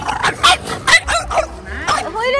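A French bulldog at an outdoor bulldog gathering gives several close, high yips and short barks that slide into a whine, while people talk nearby.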